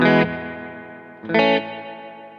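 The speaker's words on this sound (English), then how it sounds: "We'll keep the reverb. Turn the dwell way down. It's echoey. It's like repeaty." A guitar through a reverb pedal with the dwell turned down plays two chords, each ringing out in a metallic, echoey, repeating wash that fades slowly, with no voices.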